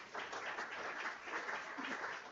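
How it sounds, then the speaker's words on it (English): A seated audience claps for a man walking up to the stage at a morning institute quality-week event, a steady, moderately faint patter of many hands that holds evenly throughout without rising or breaking. "Please let's give him a round of applause as he walks to the stage."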